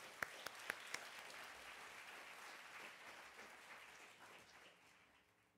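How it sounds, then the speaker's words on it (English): A crowd applauds at a book awards finalist reading: a sustained wash of clapping from a large audience, opening with a few sharp near claps and slowly tapering off. "Let's give them a round of applause."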